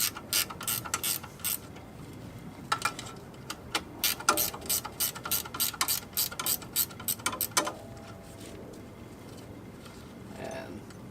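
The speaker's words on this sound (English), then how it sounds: "on a ratchet so you can remove the chain guard" A ratchet wrench works a 10mm chain guard bolt on a Can-Am DS70 ATV, rapid clicking bursts in uneven runs close up, with pauses and light handling noise between.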